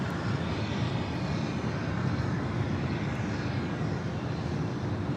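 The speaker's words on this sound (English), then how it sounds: "And we got that A330 Neo heading to JFK." Airbus A330neo jet at LAX, a steady broad roar of engine noise at moderate distance, continuous and even throughout with no talking.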